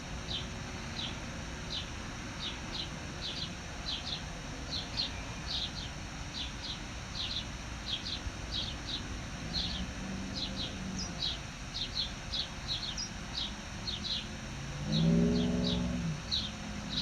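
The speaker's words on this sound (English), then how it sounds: "there's quite a few birds going on out here" Birds chirp outdoors at sunset in Arizona in quick, repeated high bursts at a regular pace, faint against a low ambient rumble that swells briefly near the end.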